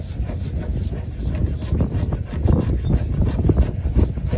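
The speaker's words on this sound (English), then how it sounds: "Now, it's windy, it's really windy." Strong wind buffets the microphone in a steady low roar with gusty surges, loud and close, no voices.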